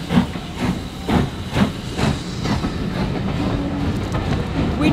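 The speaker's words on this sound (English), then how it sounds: "when I see these steam trains, I'm a train person" A steam train between Grosmont and Goathland chugs with rhythmic puffs and hissing steam, the beats slowing then blending into a steady rumbling hiss.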